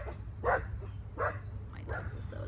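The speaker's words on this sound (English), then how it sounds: "my dogs are so loud" Dogs bark in a home, three separate loud barks spaced about a second apart over a steady low hum, fairly close.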